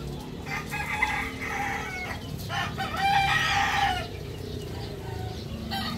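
A rooster crows loudly and close by in a long, wavering call, with a few clucks from fowl around it and no talk.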